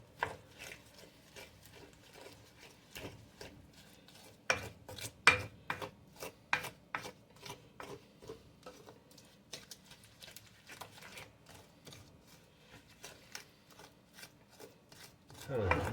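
A small wooden spoon mixes buttermilk into biscuit dough in a bowl, giving irregular soft scraping and knocking strokes in quick bursts, close and fairly quiet.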